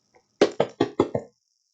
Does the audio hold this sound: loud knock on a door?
yes